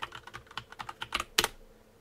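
Computer keyboard typing of commands in a Linux terminal, a quick run of close, crisp key clicks building to a louder keystroke near the end, heard alone with no talking.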